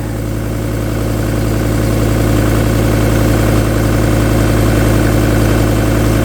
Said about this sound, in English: Well guys, cold start.